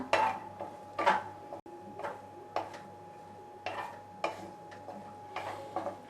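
Cashews are stirred in hot ghee in a pan for a fasting pulao, with quiet, irregular clinks and taps of a spoon against the metal and a soft background hum.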